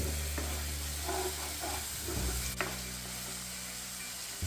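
Mutton curry fries in a pan with a soft, steady sizzle and hiss, some low steady hum beneath, and a few light utensil scrapes and taps.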